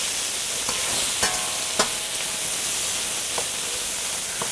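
Turkey and green beans stir-frying in a new, still unseasoned wok, with a steady close sizzle and hiss broken by a few sharp scrapes and clinks of the spatula.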